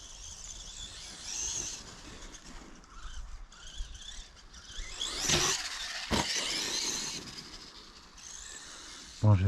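A Traxxas Grave Digger brushless 4x4 RC monster truck driving at medium speed, a hissing, whining motor with tire scrub and skidding squeals rising and falling, close by, with a sharp knock near the end.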